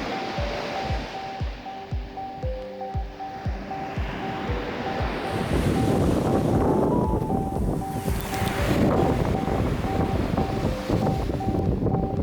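Wind gusting across a beach, a steady roaring rush that builds and stays loud, with surf-like washing and microphone buffeting; an earlier stretch carries low rhythmic thumps and a faint tonal hum.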